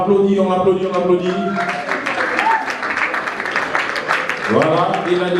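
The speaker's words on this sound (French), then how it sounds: "On applaudit, on applaudit, on applaudit." Audience applause at an awards ceremony, a steady wash of clapping running through the middle, with a voice talking over it at the start and again near the end.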